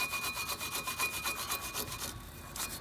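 Rust and dirt being scrubbed off the front brake caliper of a 2014–2018 Kia Soul: quiet, rapid back-and-forth rubbing strokes in a steady rhythm, close up, with no talking.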